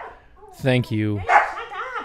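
A dog, Ella, gives a short burst of two or three loud yips or barks close by, with indoor talk and vocal sounds around it.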